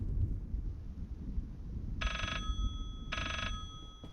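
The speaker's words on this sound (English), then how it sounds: "Oh, the sound of the phone again." A distorted telephone bell rings in the horror game Layers of Fear, two evenly spaced trilling bursts, faint against a heavy, rumbling low drone, with no voices.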